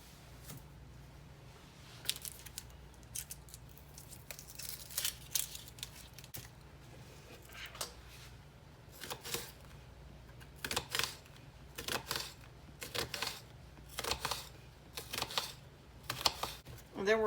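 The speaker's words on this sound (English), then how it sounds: "And now we're just going to take and cut about half of this purple onion." A knife slices through a purple onion on a cutting board, giving a run of short crisp cuts and crunches that come faint and close, broken by pauses.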